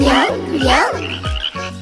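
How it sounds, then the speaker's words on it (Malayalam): Small frogs sitting on a log croak in a few short, close, loud calls, each a quick rising croak with a buzzing low tone between them, in a cartoon nursery rhyme setting. "ഒന്ന് രണ്ട് കുഞ്ഞൻ തവളകൾ മരത്തടിയിലിരിക്കുന്നു"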